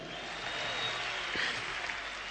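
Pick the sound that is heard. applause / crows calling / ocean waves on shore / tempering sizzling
applause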